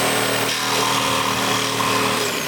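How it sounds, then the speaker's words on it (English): A reciprocating saw cutting out car taillights, a loud, continuous buzzing, grinding rasp with a steady motor whine, close up and unbroken throughout. "how do you take out taillights with a reciprocating saw?"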